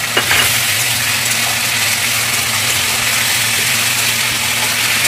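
Ginger and green chili paste frying with potatoes in hot oil for a stuffed pointed gourd and jackfruit seed dish, giving a steady, close, loud sizzle with no talk.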